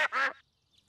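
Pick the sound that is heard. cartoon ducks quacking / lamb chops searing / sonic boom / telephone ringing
cartoon ducks quacking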